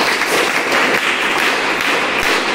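Steady applause from an audience at a school prize-giving ceremony, a dense wash of many hands clapping continuously and fairly loud throughout, with no voices over it.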